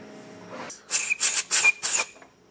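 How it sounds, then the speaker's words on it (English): Four sharp bursts of compressed air blowing out the bolt hole on the lower spring perch of a Ford Super Duty truck, loud hissing blasts in quick even succession. "it's a good idea to come and blow out this inner hole here on the lower spring perch"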